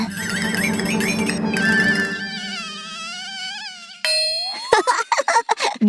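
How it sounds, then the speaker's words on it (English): High, wavering cartoon mosquito buzz in a children's show about woodpecker, owl and block-tower characters, sliding in pitch as it flies off, with bright chime-like tones and plinks toward the end, no talking. "Oh, the mosquito is flying away."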